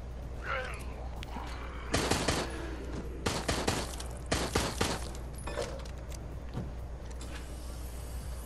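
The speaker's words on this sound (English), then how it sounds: "And there goes all my bullets." Bursts of rapid gunfire from the video game Resident Evil Resistance crackle in clustered volleys over a low game hum, loud and close, with scattered shots trailing off afterward.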